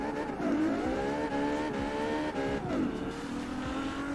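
Ferrari FXX K race car engine in the video game Forza Horizon 4, a loud steady high-revving wail with pitch rising and dipping through gear changes and a brief tire squeal, no voices.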